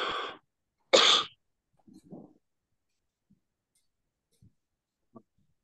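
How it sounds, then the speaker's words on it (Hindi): Two sharp, harsh coughs close to the microphone, followed by near silence with a few faint throat sounds and soft clicks. "मुझे बहुत खांसी है"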